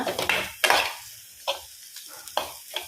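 Pieces of grated coconut frying slowly in a pan with a spoon stirring and scraping them around, giving several distinct scrapes and clinks over a soft sizzle, close by, with no talking.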